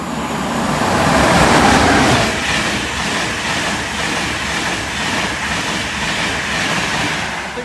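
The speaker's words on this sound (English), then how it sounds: "The train now approaching platform 1 does not stop" A non-stopping train rushes through platform 1 at a station, a loud, steady broadband roar with a swell near the start and continuous rumble and rail clatter throughout, with no talking.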